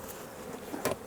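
Honey bees buzzing at an open summer beehive, a dense steady hum filling the moment with one bee passing close and louder near the end.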